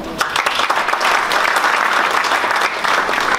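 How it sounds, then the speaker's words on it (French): A room full of people at the opening session of an international symposium claps steadily, a dense burst of applause that holds at the same level for a few seconds. "Je vous demande de les applaudir"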